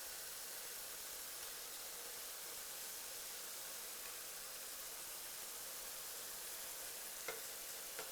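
Hamburger and pork patties frying in a pan, a steady, faint, hissing sizzle that runs continuously with a couple of small pops near the end and no voices.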